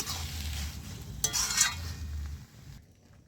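Red amaranth greens cooked with fish oil being stirred in a pan, scraping and clinking of a utensil over a soft sizzle, with a couple of sharper scrapes midway before fading to quiet.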